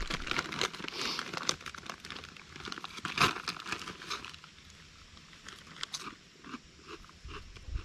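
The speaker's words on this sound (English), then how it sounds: "I'm gonna try these creamy dill pickle rippled potato chips" Rippled potato chips in creamy dill pickle flavour being crunched and chewed outdoors on a bikepacking trip, with repeated crisp bites and a crinkling snack bag, close to the microphone and without talk.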